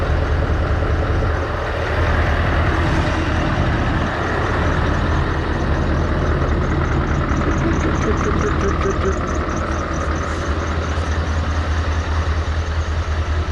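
A Scania V8 truck engine idles with a steady low rumble and a constant broadband hiss of air, loud and close throughout, with no change in revs.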